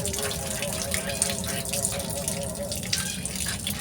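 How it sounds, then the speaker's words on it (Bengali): A large fresh fish is washed under a running tap, giving a loud, continuous gush of water into a sink. Faint handling sounds come through the flow. "যেহেতু অনেক বড় একটা মাছ, তাই আমি মাছটা কাটার আগেই খুব ভালো করে পরিষ্কার করে ধুয়ে নেব।"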